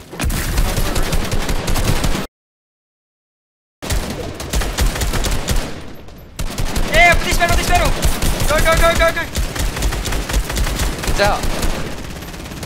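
Rapid bursts of automatic gunfire in a Fortnite-style competitive trio match, loud and close, broken by a short silence and layered with game effects while players shout callouts over the shooting.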